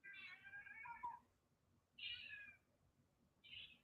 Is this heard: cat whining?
yes